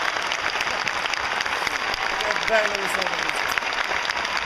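Audience applause for artist Patrizio Ciampichetti during a televised show premiere, steady dense clapping throughout with a voice speaking briefly over it.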